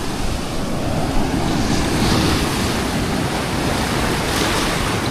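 Rough sea waves surge and crash against a wharf, a loud continuous roar of surf with wind buffeting the microphone throughout, steady and close with no talk.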